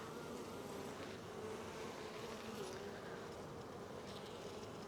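Honey bees buzz steadily around a hive frame with emerging brood, a dense continuous drone at close range with no talking.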